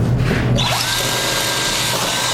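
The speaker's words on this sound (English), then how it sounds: "So once you have your holes drilled" Power drill boring holes while building a BOB holder for a Super Jet, a loud close whirring burst at the start that trails into a steady mechanical hum.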